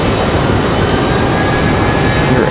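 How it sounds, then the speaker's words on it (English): Airbus A319 jet departing Raleigh-Durham International Airport, a loud, steady broadband engine roar with no talk. "We'll pick up the A319 departure in a moment."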